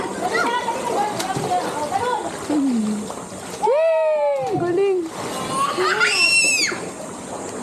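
Swimmers jump and splash into a river, with loud water splashes and sloshing mixed into lively group chatter, shouting and laughter throughout.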